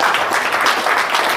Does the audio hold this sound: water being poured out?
no